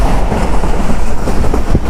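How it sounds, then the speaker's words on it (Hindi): A Hazara Express train pulls out of a railway station, giving a loud, steady rumble of rolling carriages with a faint clickety-clack of wheels on rails throughout. "7:40 पर ट्रेन स्लिप कर रही है रन पठानी रेलवे स्टेशन को"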